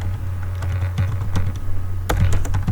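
Python code is typed on a computer keyboard in a steady run of close, fairly loud clicks that grows busier toward the end, over a low constant electrical hum with no speech.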